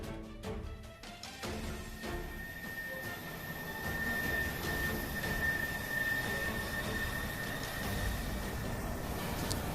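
A cartoon airplane roars steadily with a rushing, droning engine and a faint high whine, loud and continuous for several seconds after a few sharp knocks at the start.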